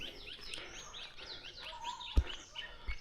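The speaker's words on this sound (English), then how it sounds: "So you can hear the birds here." Birds call and chirp in a clean outdoor setting in Kenya, with many faint, overlapping twittering notes at a distance over a soft background and a couple of brief low thumps.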